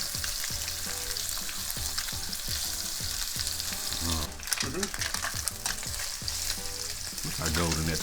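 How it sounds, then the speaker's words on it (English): Thin tilapia fillets sizzle in a hot frying pan with a loud, steady crackle, joined by occasional stirring and scraping noises and no talk. "You hear that sizzle? That's what you want."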